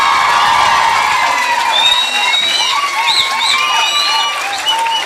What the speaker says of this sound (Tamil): அத்தனை பேர் கைதட்டி பாராட்டு சொல்லுங்க